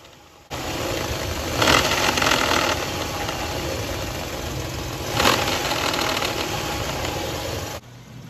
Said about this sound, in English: I'm going to let you listen to that noise that I had coming from the top of my engine